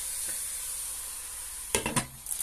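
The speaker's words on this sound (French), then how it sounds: "c'est en train de cuire un peu les courgettes" Courgettes and partly frozen minced steak sizzling in a pan, a faint steady hiss, then a few brief clattering stirs near the end.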